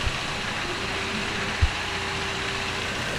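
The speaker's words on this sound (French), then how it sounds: "Donc tu viens d'allumer le moteur" A V6 boat engine running on a test bench, a steady broad mechanical roar and hum that holds constant throughout, close and fairly loud, with one brief low thump midway and no speech over it.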